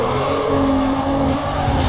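A Toyota Supra skids along a canyon road in Need for Speed Carbon, a loud sustained engine drone with a steady tire-squeal tone throughout.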